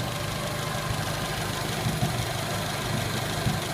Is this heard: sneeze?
no